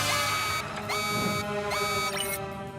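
An electronic alarm at a toy shop in a cartoon rings continuously, loud and steady, with repeated rising tonal chirps layered over a dense warbling tone.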